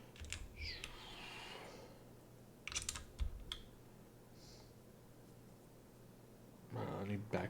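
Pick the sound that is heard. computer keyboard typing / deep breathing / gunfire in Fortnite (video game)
computer keyboard typing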